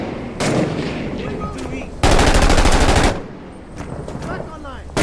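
A belt-fed machine gun in a tactical shooter video game fires in bursts, a short rattle early on, then a long dense sustained burst, with scattered distant shots and a brief voice between.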